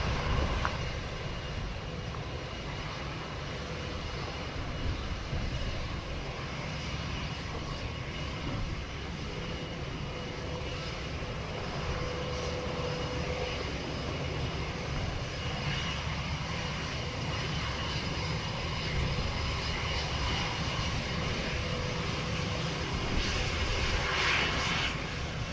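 Airliner jet engines at an airport, a continuous broad distant roar that holds steady throughout with no talk over it.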